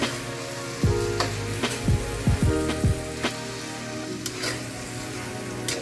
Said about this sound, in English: Just gonna let it cook a little bit more, get nice and hot.